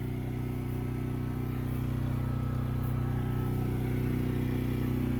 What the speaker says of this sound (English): Sorry for the noise.